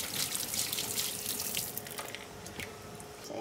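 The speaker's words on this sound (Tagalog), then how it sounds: "huhugasan natin yung mga dahon" Leaves are rinsed under a running tap: steady splashing water into a sink with irregular wet rustling, close and without speech.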